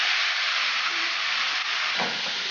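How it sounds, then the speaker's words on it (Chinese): Pork and chili fry in freshly rendered lard in a wok, producing a loud, continuous sizzling hiss that stays steady throughout. "油已经出来了，我们把猪肉放下去"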